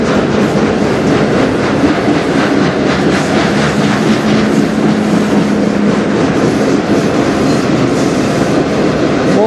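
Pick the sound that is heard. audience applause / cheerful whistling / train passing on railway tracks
train passing on railway tracks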